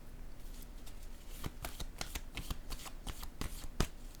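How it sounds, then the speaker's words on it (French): Soft papery card sounds at a table, several quick light slaps and shuffles of playing cards being laid down, quiet and close with no talking. "Je vais déposer une autre carte ici."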